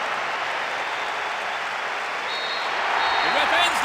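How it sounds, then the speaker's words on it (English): A stadium crowd in Pro Evolution Soccer 2006 lets out a broad, sustained roar that swells slightly toward the end, a dense hiss of many voices with no distinct words. "a huge roar from the crowd"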